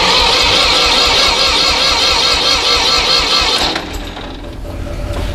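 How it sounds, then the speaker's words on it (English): Ford 2600 tractor engine running steadily and loudly close by for about four seconds, then dropping to a quieter, thinner rumble as if faltering or cutting back. "switch the fuel on and see if we make it start."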